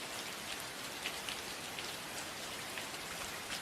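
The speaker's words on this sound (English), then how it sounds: "Rain sounds." Steady rain falls on a surface throughout, a dense even hiss with scattered drop patter, moderately quiet and continuous, with no voices.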